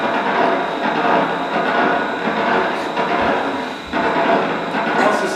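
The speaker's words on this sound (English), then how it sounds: "just any arbitrary EMG we measured in this bird," An electromyography signal recorded from a zebra finch and played back as audio: a dense, continuous broadband rushing crackle, loud and steady, with a brief dip near the end.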